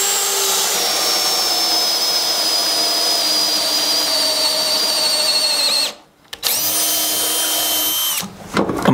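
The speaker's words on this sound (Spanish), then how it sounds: "Ahora vamos a probar una broca de 25 milímetros en una broca de autoalimentación." A DeWalt 25 mm self-feed drill bit bores through wood with a loud, steady high-pitched whine. The drill cuts out briefly near the six-second mark, then runs again and stops close to the end.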